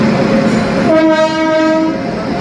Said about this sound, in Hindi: और ये हमारी ट्रेन आ गई